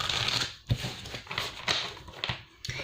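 Animal spirit cards being shuffled: soft, quick papery riffles and light taps, close and quiet, in short bursts.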